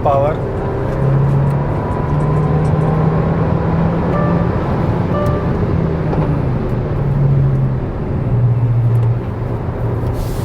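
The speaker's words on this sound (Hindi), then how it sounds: "अब थोड़ा सा टर्बो का देखते हैं क्या है हिसाब किताब," A turbocharged Hyundai car with performance modifications accelerates, its engine droning steadily with a rising pitch from inside the cabin, while people talk over it throughout.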